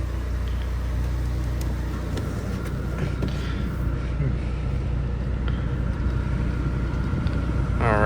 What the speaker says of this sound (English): the next thing I want to do is take y'all on a test drive. We're going to hop in the car real quick